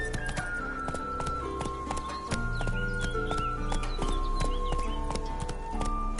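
Roach, the horse in The Witcher 3, gallops with a quick, continuous hoof rhythm beneath a dense, loud layer of in-game music.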